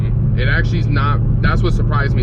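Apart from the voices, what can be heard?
cammed 2015 Camaro SS 1LE engine cruising in 6th gear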